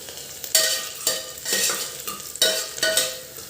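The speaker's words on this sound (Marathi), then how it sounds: "कांदा छान लालसर होऊन जायचा तांबूस रंग येईपर्यंत" Onion sizzles and fries in a kadhai for green moong curry, with repeated bursts of a spoon stirring and scraping against the metal at a steady rhythm, close and fairly loud with no talking.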